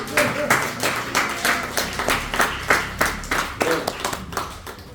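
A church congregation at a Sunday service claps in a steady, rhythmic beat, many hands striking together in even pulses that carry on throughout at moderate loudness.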